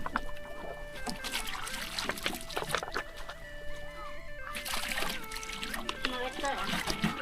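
Villagers bathe together in a rural river in Laos, splashing and pouring water amid lively chatter, with roosters clucking nearby and continuous voices over the watery splashes.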